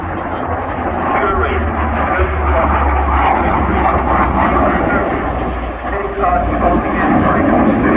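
A military aircraft flies over at the Royal International Air Tattoo 2022 airshow, its loud, steady engine roar filling the air with a deep low rumble. A voice talks over the sound throughout.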